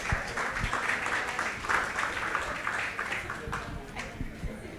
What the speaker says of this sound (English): Let's give Lay a big round of applause.